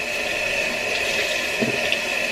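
Hot water runs from a bathroom tap, a steady close rush with a faint splash partway through, while a face is being washed.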